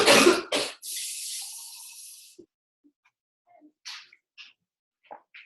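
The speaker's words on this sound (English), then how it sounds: "I'm so sorry that you're coughing" A person on a video call coughs in a couple of loud, sharp bursts up close, then a tap runs briefly as a glass is filled, followed by quiet and a few faint clinks.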